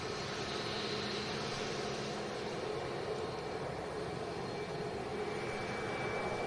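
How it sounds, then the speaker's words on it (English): A Ryanair Boeing 737-8200 taxis at an airport, producing a steady, moderately distant broadband jet engine roar with a faint high whine, constant and unbroken with no speech. "Taxiing in the Ryanair 737-8200."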